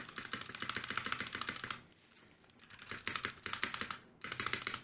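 A custom mechanical keyboard typed on in fast, dense rattling bursts, close and fairly loud, stopping briefly for about a second before the clacking resumes, with no voices.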